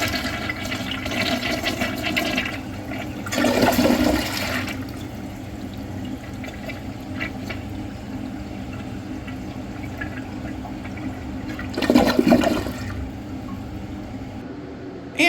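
An American Standard Cadet Specifier toilet flushes twice, each a short loud rush of water roughly eight seconds apart, with quieter trickling and refilling between and no talk.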